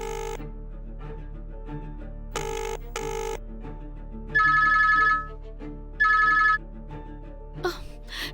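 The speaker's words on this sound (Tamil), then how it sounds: "ஃபுல் ரிங் போய் கட் ஆகுது" A telephone rings in repeated bursts, some long and some short, against a quiet indoor hum. A voice murmurs faintly in between, and then the ringing stops.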